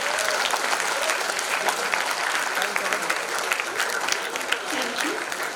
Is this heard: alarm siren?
no